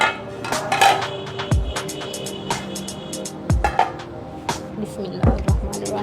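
Metallic clinks and scraping of a cooking pot, with several dull thuds as rice is tipped in for chicken pulao, repeated a few times, close by.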